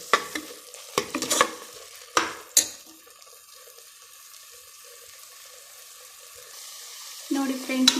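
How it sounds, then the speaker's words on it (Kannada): Sambar masala for a drumstick sambar frying in a pan, with a few sharp scraping stirs and clinks early on, then a faint low sizzle before stirring picks up again at the end. "ಹಾಕ್ಕೊಂಡು ಚೆನ್ನಾಗಿ ತಿರುಗ್ಕೋಬೇಕು"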